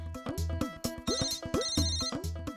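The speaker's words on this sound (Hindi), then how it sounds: "ये दिलीप जी का भी फोन हो सकता है, वो दरवाजे के बाहर खड़े हैं।" A home landline telephone rings in repeated electronic trilling bursts, steady and moderately loud indoors, no voices over it.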